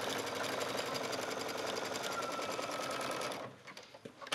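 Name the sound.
sewing machine zigzag stitching elastic back and forth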